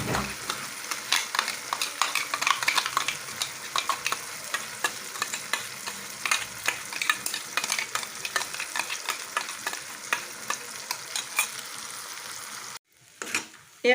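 Vegetables for aloo matar paneer fry in a pan and are stirred, giving repeated scraping strokes over a steady sizzle that stay close and fairly loud, ending with a brief quiet pause and one last clank.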